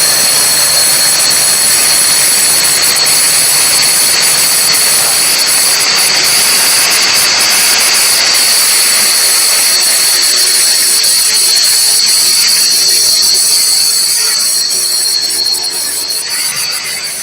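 A DeWalt power drill bores a hole without a pilot hole, holding a loud, continuous high-pitched whine close up for the whole stretch. The pitch stays level, and the sound eases slightly near the end.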